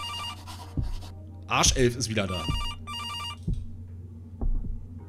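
A telephone rings in the indie horror video game September 7th, a loud bright burst followed by shorter repeated rings amid low thumps and a steady hum, with someone talking over it.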